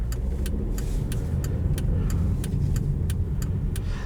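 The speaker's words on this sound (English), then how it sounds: "I always forget how torquey these 5 cylinders are." A 2016 Volvo S60 Cross Country with a five-cylinder engine gives a steady, loud in-cabin engine drone under acceleration, with a light, regular ticking repeating above it.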